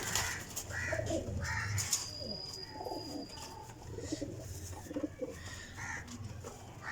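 Pigeons cooing in a loft, low soft coos repeating through the clip with scattered faint chirps and rustling nearby, no talk.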